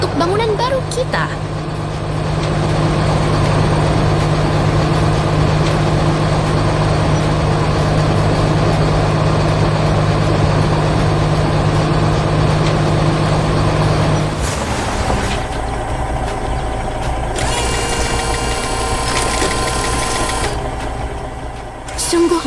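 A yellow ballast regulator and a hi-rail excavator work on railway track, with a steady, heavy diesel drone for most of the stretch, then a sudden shift to a thinner whir with clanking and a high mechanical whine.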